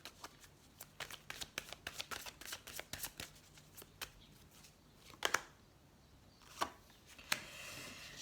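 A deck of tarot cards is shuffled by hand in a quiet room: rapid soft riffling clicks for several seconds, then a few sharper isolated snaps as the cards settle. Nobody speaks.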